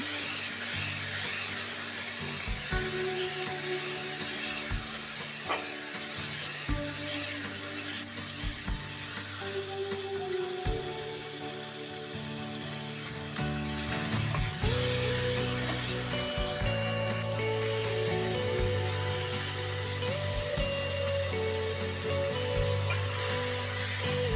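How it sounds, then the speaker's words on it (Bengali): Spice paste for a Bengali egg curry fries steadily in hot oil, a continuous close sizzle with occasional stirring scrapes and clatter throughout. "ভালো করে মশলা কষিয়ে নেব"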